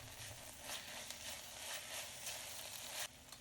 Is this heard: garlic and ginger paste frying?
yes